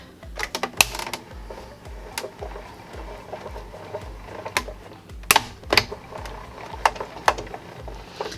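A die cutting machine cuts a paper folder topper, giving a series of irregular mechanical clicks and clunks over a low grinding rumble as the plates pass through. The sound is close and fairly loud, with sharper knocks bunched near the start and middle.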